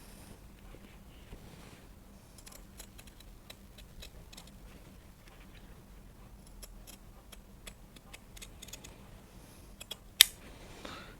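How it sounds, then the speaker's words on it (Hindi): Scissors cut a traced neck shape out of fabric for a garment, giving faint, scattered snips and crisp clicks over a quiet room, with one sharper snap near the end. "अब हम इसकी कटिंग कर लेंगे।"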